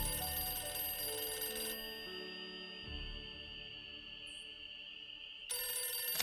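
A telephone rings in the Nancy Drew mystery game Ghost Dogs of Moon Lake, a steady electronic ringing tone held over several seconds, quiet and alone with no talk.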